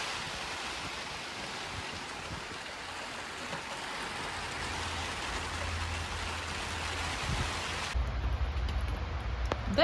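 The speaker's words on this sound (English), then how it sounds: "For more than an hour, really heavy rain." Heavy rain pours steadily onto a garden during a thunderstorm, a dense, continuous hiss that stays loud and close throughout, with no voices.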